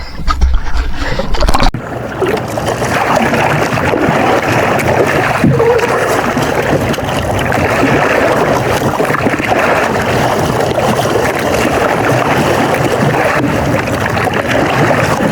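A small wooden outrigger boat rocks and rows on the open sea, with steady water wash and wind buffeting the microphone throughout, loud and continuous.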